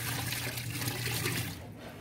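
Tap water runs steadily for washing in a home in Saudi Arabia on a cold day, a close, continuous splashing gush that eases slightly near the end.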